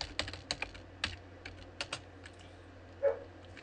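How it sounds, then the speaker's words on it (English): Scattered clicks of typing on a computer keyboard, irregular and fairly close, with one slightly louder key press near the end and no talking. "we can just type it"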